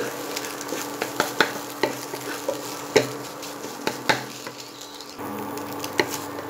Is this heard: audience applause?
no